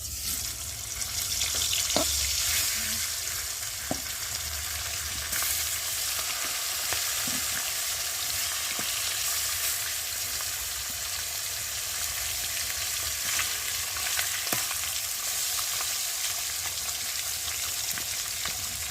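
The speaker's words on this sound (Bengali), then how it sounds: "আর এখন এই যে পেটিগুলো দিয়ে ভেজে নেব।" Pieces of fish belly fry in hot oil in a pan, giving a steady, close, broadband sizzle that runs throughout, with occasional faint clinks of stirring and no talking.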